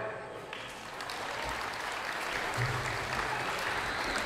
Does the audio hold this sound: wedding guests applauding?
yes